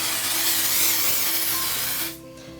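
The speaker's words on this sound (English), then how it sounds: "just spray it on" A can of basting adhesive spray hisses onto a quilt top in one loud, sustained burst lasting about two seconds, then cuts off sharply.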